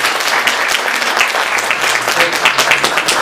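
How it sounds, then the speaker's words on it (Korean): A church congregation at a Sunday worship service claps together to welcome visiting guests, a steady, dense wash of applause from many hands sustained throughout, fairly loud and close. "함께 박수로 환영하겠습니다"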